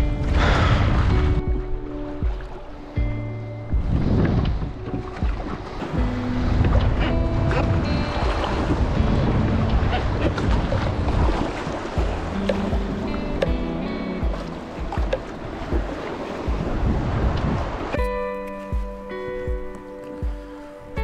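Strong wind and sea waves at the seashore, a loud, continuous roar of surf with heavy gusts buffeting the microphone and a brief lull near the end.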